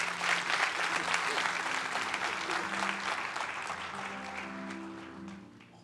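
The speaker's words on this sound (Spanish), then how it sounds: "Denle un fuerte aplauso a Dios si puede." A church congregation claps together, a fairly soft wash of applause that gradually thins and fades out toward the end.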